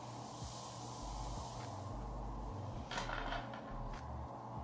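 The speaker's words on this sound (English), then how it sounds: "Spray some of my wax spray on it." A few short hissing bursts of an aerosol wax hair spray, close by, over a steady low background hum.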